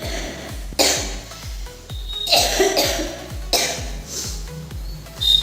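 A person coughs at an evening temple visit on the last day of Ganesh Puja: several harsh, close bursts, the loudest near the start and middle, over a steady low rhythmic drumbeat.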